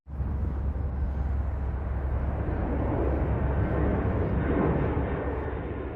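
Airplane engines roar into a takeoff run, a loud, steady low rumble that swells in at the start and holds a broad, continuous rushing drone throughout.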